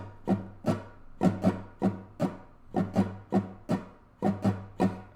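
Muted guitar strings strummed with the fingernails in a steady down-up pattern give a run of about fourteen crisp, percussive chunks grouped in a repeating rhythm, close and alone with no talking.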